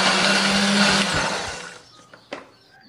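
A kitchen blender grinds candlenut, garlic, shallot and coriander with a little water into spice paste, a loud close whir that winds down and stops after a couple of seconds, followed by a few faint clinks.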